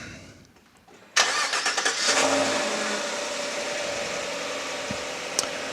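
A truck engine cranks and catches on a quiet morning, with a few quick chugs before it settles into a steady, close mid-pitched idle, with a faint click near the end.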